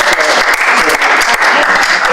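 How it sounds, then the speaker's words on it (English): Applause at a Hillsboro School District school board meeting: a roomful of people clapping steadily and fairly loudly for the whole stretch, a dense, even patter with no pause. "Probably another round of applause is needed."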